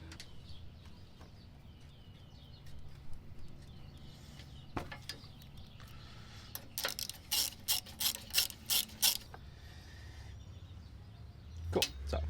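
A ratchet clicks in quick bursts while a fog light bolt is tightened onto a fabricated front bumper of a 2017 Toyota Tacoma, with sharp metallic ticks close by and short pauses between strokes.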